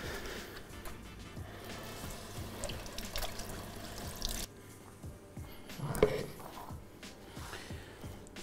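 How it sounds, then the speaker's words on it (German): Fresh lovage leaves washed under a running kitchen tap, a continuous splashing water stream with squishy handling of the wet leaves, close by and unbroken by talk. "Liebstöckel waschen."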